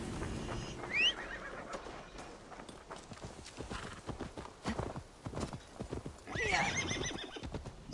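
A horse in the Assassin's Creed Valhalla video game gallops with rhythmic clip-clop hoofbeats and lets out two sharp whinnies, one early and one near the end, against quiet game ambience.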